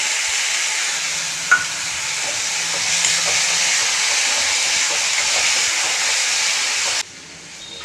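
Brinjal sautéing with tomato puree for a thokku sizzles and hisses steadily in a pan, with a few soft stirring knocks, before the sound cuts away sharply near the end.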